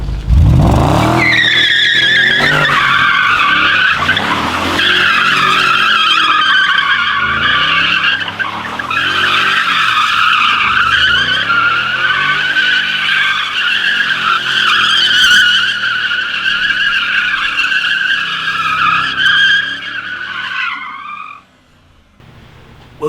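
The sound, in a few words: car doing donuts with tires skidding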